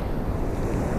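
Ocean waves breaking near a reef: a continuous, loud wash of surf mixed with buffeting wind rumble, with no distinct individual breaks.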